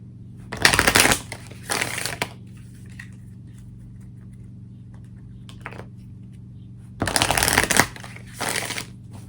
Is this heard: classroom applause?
no